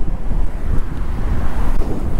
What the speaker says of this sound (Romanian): Uai, ce bate vânt aici.